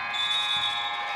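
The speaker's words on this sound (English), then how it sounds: "At the buzzer, Taylor Knighting puts it in" A basketball game-ending buzzer at a high school girls' game between Culpeper and Fauquier sounds as one loud, steady electronic tone that holds without a break over gym crowd noise.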